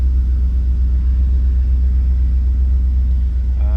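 A 1978 Chevrolet Camaro Z28 engine idles with a low, steady rumble, close and constant throughout, with no voices over it.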